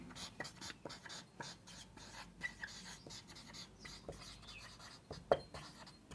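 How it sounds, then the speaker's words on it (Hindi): Writing on a board during an anatomy lesson, giving a faint, scratchy stroke sound in short irregular bursts. Someone speaks quietly over it at times. "मैं इसे इंग्लिश में ही लिख देता हूँ।"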